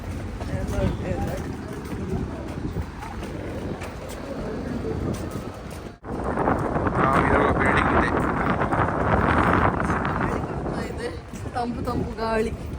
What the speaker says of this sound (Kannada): ತಂಪು ಗಾಳಿ.